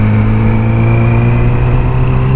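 A motorcycle engine drones loud and close with steady tonal harmonics as the bike pulls out, holding an even pitch through the brief stretch with no talking.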